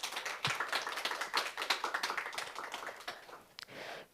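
Audience applause for Professor Kim Jin-ju at a youth political talk concert, a dense wash of many hands clapping that stays steady and then thins into a few scattered claps near the end.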